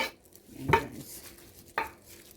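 A spoon stirs a bangus fish filling of onion, garlic, ginger and tomato in a pan, giving two distinct scraping clanks against the metal amid quiet background.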